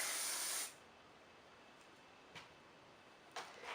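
A short, loud hiss of an aerosol hairspray opens, then cuts off, followed by quiet with a couple of faint clicks.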